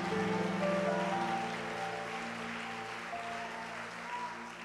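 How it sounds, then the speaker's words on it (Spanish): A church congregation applauds during a sermon, steady clapping that swells at first then eases slightly, with a low sustained organ or keyboard tone underneath and no clear speech. "Alguien aplauda a Dios ahora."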